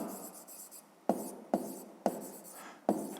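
Handwriting on paper during a fifth-grade maths exercise, with four or five sharp pen taps and short scratchy strokes over a soft hiss, fairly close and quiet, with no voices.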